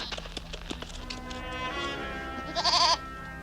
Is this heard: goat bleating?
yes